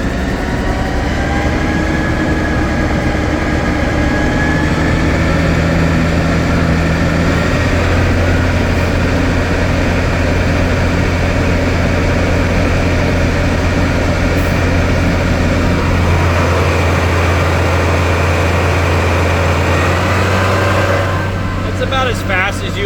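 A John Deere tractor drives a set of used Claas triple mowers, a loud steady engine and machinery drone that holds throughout with a slight rise in pitch as revs are brought up.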